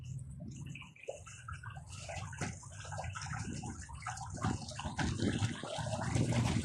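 Water splashes and sloshes during water play, a busy stream of irregular splashes that grows steadily louder toward the end over a murky background.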